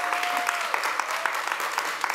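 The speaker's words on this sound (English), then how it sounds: "Give yourselves a round of applause just for being in the building." An audience at a Juneteenth conversation event gives itself a round of applause, with dense continuous clapping from a crowd heard fairly close and loud throughout.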